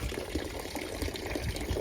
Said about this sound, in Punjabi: ਜਾ ਰਿਹਾ ਪਾਣੀ ਥੋੜਾ ਥੋੜਾ ਦੇਖੋ